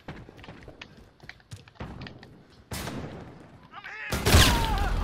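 Shotgun blasts in Call of Duty Modern Warfare during a 2v2 match: two loud, close booming shots a second or so apart, each a sharp broadband burst that rings out, with excited players talking over the game sounds.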